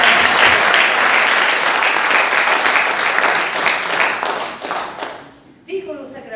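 Loud, dense audience applause at a presentation of the Sicilian work "Viculu Sacramentu" by Sicilia Cori Miu, sustained for about five seconds before fading and giving way to quieter sound.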